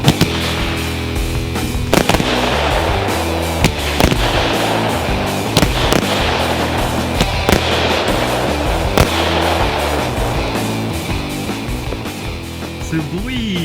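A rapid string of sharp pyrotechnic bangs and crackles over a dense, roaring hiss, with louder pops punctuating a continuous barrage.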